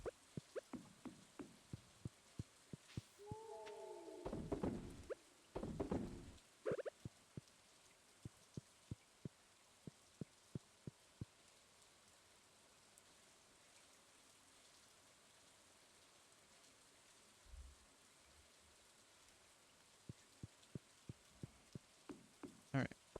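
Green Rain in the Stardew Valley video game, a faint soft rain patter with scattered sharp drop ticks, joined briefly by other louder game sounds near the start.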